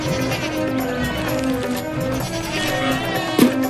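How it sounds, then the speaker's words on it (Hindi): Goats bleating in an animated children's story, several wavering calls over a busy rural background, with one sharper bleat near the end. "पिताजी वो देखिए, वो रही हमारी बकरी।"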